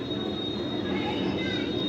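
A train waiting at a railway station gives a steady low rumble with a faint high whine held over it, continuous and moderately loud through the moment, with no clear voices.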